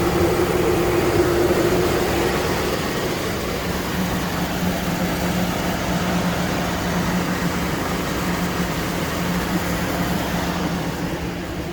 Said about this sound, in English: This engine sounds really good.